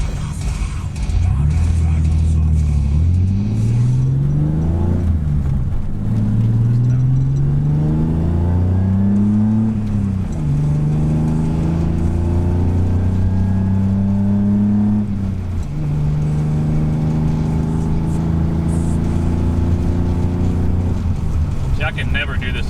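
A lowered car with a BMW M20 engine accelerates on a back road, the engine note rising repeatedly through several gear changes, loud and close, with talking inside the car.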